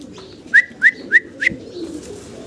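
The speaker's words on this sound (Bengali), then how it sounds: "এখানে আপনারা একসাথে 5 পিস কবুতর দেখাচ্ছি" Four clear, evenly spaced coos from young fancy pigeons at a farm, close and fairly loud over a quiet background hum, followed by softer faint calls.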